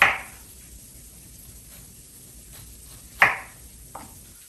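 A kitchen knife slicing through a pineapple near its core on a cutting board: two or three sharp, close cuts and taps separated by quiet pauses.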